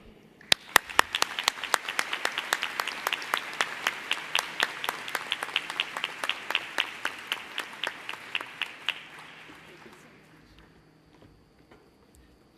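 A conference audience at the ARVO 2014 closing keynote applauds to welcome the speaker, with a crisp burst of clapping that holds steady for about nine seconds and then fades out.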